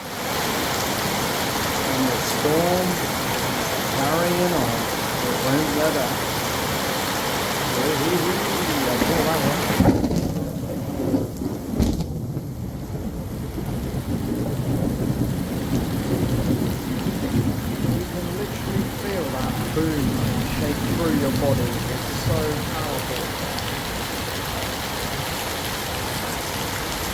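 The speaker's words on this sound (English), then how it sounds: "And the storm carrying on. It won't let up." A heavy thunderstorm in the Philippines brings a constant roar of rain, with a thunder crack partway through, while people talk over the downpour.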